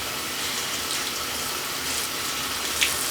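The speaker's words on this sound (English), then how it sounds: "I use a clean container and I rinse the brush that I had inside the barbicide." Water splashes and trickles steadily as a nail brush is rinsed in a clean container, heard close with a small splash near the end.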